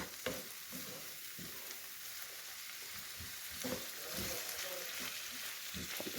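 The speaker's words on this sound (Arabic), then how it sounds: "اللحم شلون ما نقول ياخذ له حمسة سريعة كلش" Meat and vegetables sauté quickly over high heat in a pan, a steady close sizzle with intermittent stirring scrapes and clatter throughout.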